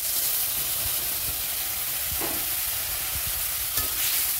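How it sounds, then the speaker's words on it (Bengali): Chopped onion and ground spice masala sizzle steadily in a hot pan for an egg and soybean dish, with occasional spoon scrapes and stirring knocks over the continuous frying hiss. "মশলা ভালো করে কষিয়ে নেব।"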